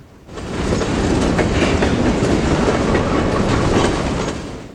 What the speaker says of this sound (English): Up next was an Oregon and Northwestern IPD boxcar.